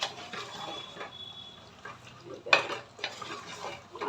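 A spoon stirring goat meat curry with hand-ground spices as it fries in a pan, producing quiet sizzling and scraping strokes with a few brief utensil clinks.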